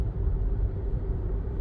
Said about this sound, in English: the normal, the gasoline engine noises.